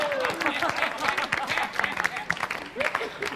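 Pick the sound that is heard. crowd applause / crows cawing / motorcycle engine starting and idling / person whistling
crowd applause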